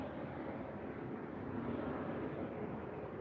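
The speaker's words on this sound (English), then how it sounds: "there is a helicopter. It was right above me." A helicopter passes overhead above trees at a campsite, heard as a steady, broad drone at moderate volume with no distinct beat and no talking.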